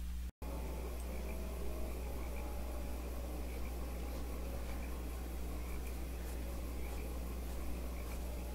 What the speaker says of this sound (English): First, I'll do the frogs and then the crows.